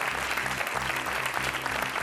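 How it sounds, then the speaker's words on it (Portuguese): A studio audience applauds a contestant on the Portuguese TV quiz show Joker, a dense, steady wash of clapping over a low rhythmic backing that holds throughout. "mais 5 segundos de palmas para a nossa Isabel Correia"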